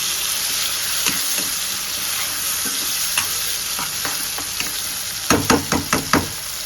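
Tomatoes fry for a broiler chicken curry, a steady close sizzle under occasional spoon scrapes, ending with a quick run of rhythmic stirring knocks against the pan.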